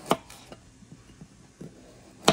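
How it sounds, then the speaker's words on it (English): A kitchen knife cutting vegetables into diagonal slices for mixed pickles: a few separate, sharp knocks of blade on board, spaced irregularly, close and fairly quiet with soft handling noise between. "I'm just going to do diagonal slices"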